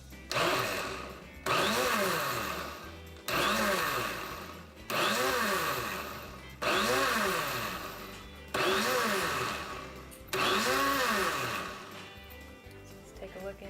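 A countertop blender pulses a goat's milk lotion mixture in seven short, even bursts, each a loud whirring motor surge with a rising then falling whine and a brief pause between.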